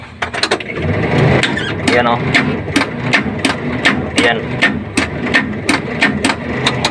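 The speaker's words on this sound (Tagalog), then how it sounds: "Ayan kita natin na di maikot ang makina kung i-crank natin sa starter" A seized Suzuki DA63 engine that ran out of oil is cranked with its starter, producing a run of sharp, evenly spaced mechanical clunks and clicks. Someone talks over the noise nearby.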